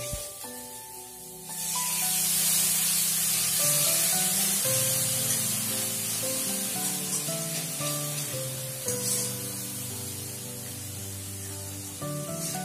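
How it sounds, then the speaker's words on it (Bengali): Spices for kadhi stirred in a hot pan, with a sudden loud burst of hissing sizzle as a sprinkle of water hits, then a steady sizzle continuing under prominent background music. "মশলাটা যাতে পুড়ে না যায় তার জন্য আমি ছিটে ফোটা জল দিয়ে নাড়ব।"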